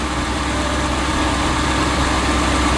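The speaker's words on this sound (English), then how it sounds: "wait to see how low the idle drops. This does have an automatic choke" The engine of a 1976 motorhome with an automatic choke idles steadily, a dense, loud, unbroken rumble heard close for a few seconds with no voices.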